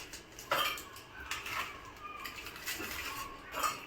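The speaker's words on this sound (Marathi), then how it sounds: "ते मी मिक्सरच्या भांड्यामध्ये टाकणार." Biscuit packets dropped into a mixer jar, producing a few sharp clinks and rattles against the jar with quiet room sound between them and no talking.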